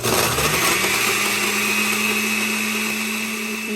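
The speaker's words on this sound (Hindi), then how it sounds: "मैं इसको इस तरह जो है वो ब्लेंडर में ब्लेंड कर लेती हूँ।" A kitchen blender whirs loudly and steadily while blending juice, a continuous motor drone with a bright whine that holds for the whole stretch, up close and with no talking.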